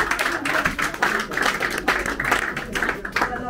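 An audience applauding candidates at a presentation evening for a cantonal Conseil d'Etat election, a brisk room-filling patter of many hands clapping, steady and fairly close, with a faint voice underneath.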